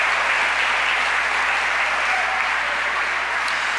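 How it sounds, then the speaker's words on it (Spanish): A church congregation at a Sunday service gives loud, sustained applause, a thick, even wash of clapping that carries on without a break. "Démosle ese aplauso fuerte al Señor, aleluya."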